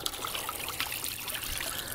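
Water from a submersible pump in a bucket, part of a DIY water feature, flowing and trickling in a steady close splash with no pauses or talk.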